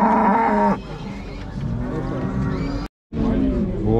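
Cattle at the Merke-Atabek livestock bazaar, where Angus and other breeds are sold; one loud, close moo opens the clip, then the noisy market continues with people talking over it and a brief moment of silence near the end.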